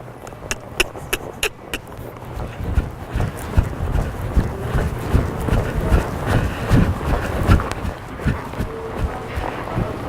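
A horse lopes around an arena during lead-change training, its hooves beating a steady, rolling three-beat rhythm that stays close and fairly loud for the whole stretch, with a little wind noise.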